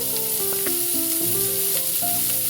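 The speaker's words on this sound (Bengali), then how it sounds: "আদাটা একটু ভেজে নিচ্ছি তেলের সাথে। এবার চাল কুমড়োগুলো দিয়ে দিচ্ছি।" Ginger and ash gourd fry in hot oil with a steady, close sizzle that runs beneath a melodic music track.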